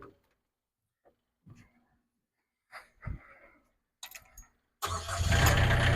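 A small engine on an imported Chinese mini skid steer cranks in several brief attempts, then catches and settles into a loud, steady run close by.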